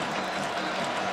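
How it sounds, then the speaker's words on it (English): Football crowd at Beaver Stadium during a Nebraska at Penn State game, a broad, steady roar of cheering and applause with no distinct individual voices. "the crowd's starting to come alive here at Beaver Stadium"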